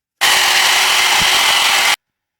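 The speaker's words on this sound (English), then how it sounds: "I'm going to hairdryer this so you can watch it cracking." A hairdryer blows steadily on a textured model base: a loud, close whooshing roar that starts abruptly, runs for under two seconds alone, then cuts off.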